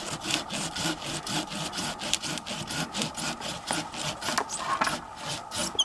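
A small white birch tree in a woodlot is sawn by hand, with rapid, steady back-and-forth rasping strokes close up, ending in a few sharp cracks as it gives way.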